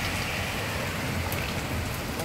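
Steady rain and hail hiss down in a dense, continuous wash, with faint scattered drops and a low background rumble.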